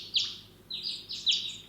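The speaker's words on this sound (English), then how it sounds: "Oh, there's some loud bird chirps." Loud bird chirps from the visual novel game Memories Off, a few bright high tweets in quick bursts over a faint background hum, with no talking.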